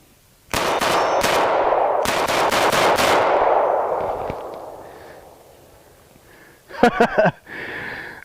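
A Springfield Armory XD-45 .45 ACP pistol fires fast at a steel plate: two loud, close bursts of rapid shots with ringing decay. A short burst of clattering noise and a voice follow afterward.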